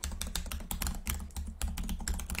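Rapid typing on a computer keyboard while entering a website address, with close, continuous clusters of key clicks and brief pauses, no talking.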